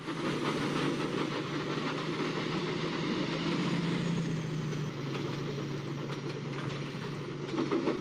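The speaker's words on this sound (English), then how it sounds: "this Diesel's going pretty fast for his speed" Toy trains from Thomas and Friends, including a Diesel, run along a track in a race, giving a steady close rumbling and rattling drone without speech.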